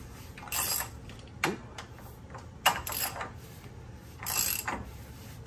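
A ratchet tightens a new CV axle nut on a car in a garage, giving a few quiet, separate clicking strokes with pauses between them and no voices.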